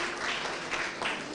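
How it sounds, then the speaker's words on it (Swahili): Brief burst of audience clapping for an honoree at an awards event for influential Kenyan Muslims, a dense, even patter of many hands. "Makofi kwa Haris."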